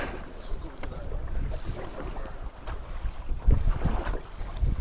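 Choppy water slapping and splashing against a fishing boat hull on a lake in Canada, big waves despite no felt wind, with a steady low rumble of wind and engine noise throughout.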